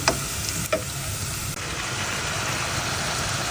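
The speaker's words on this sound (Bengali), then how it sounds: "সব সবজিগুলো একদম কষিয়ে নিলাম" Mixed vegetables sauté and sizzle in a pan for a fish curry, a steady close frying hiss with a couple of brief stirring clatters near the start and no talking.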